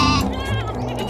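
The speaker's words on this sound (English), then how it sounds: "G for goat." A single close, loud goat bleat with a wavering, nasal tone lasts about a second and is heard alone.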